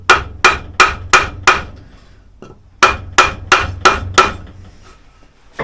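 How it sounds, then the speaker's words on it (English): A tapping stick strikes a Honda RS250 two-stroke engine case in two sharp, loud bursts of five quick metallic knocks each, separated by a short pause, close up with no talk. "Tapping stick. Keep that as close to the case as possible."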